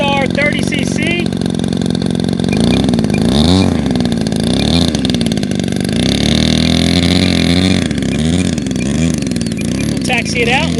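A Great Planes Giant Avistar 30cc RC airplane with a gas engine of roughly 85-inch wingspan runs loud and steady, its pitch swelling and dipping as the throttle changes, with voices talking over it throughout.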